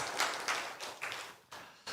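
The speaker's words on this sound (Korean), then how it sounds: "하나님 경고의 박수 올려드리겠습니다." Church congregation clapping together in a loose, rhythmic burst of applause, several swelling claps filling the room at moderate volume.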